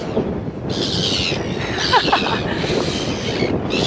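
A seagull on a rugged New Zealand beach near Okiwi Bay gives a few short, sharp calls close by, set against a constant wash of surf and wind.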